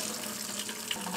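Water running steadily from a cheap leaking outdoor faucet on a farm, a constant splashing hiss, close and moderately quiet, with no voices.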